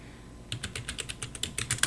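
Keys clatter on a computer keyboard as a Linux command is typed into a CentOS terminal, a quick run of a dozen or so close, crisp clicks after a brief quiet start.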